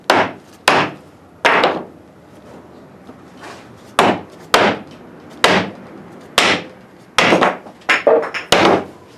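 Heavy 22-ounce hammer striking parts of a 1970 Dodge Dart during disassembly, about a dozen sharp, ringing blows at an irregular pace, close and loud, including a quick double strike near the end.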